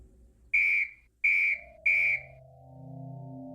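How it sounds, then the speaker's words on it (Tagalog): Three loud, piercing whistle blasts in even succession, each about half a second long, followed by a low sustained tone. "Matapos ay sumipol ng 3 ulit si Tia Melinda."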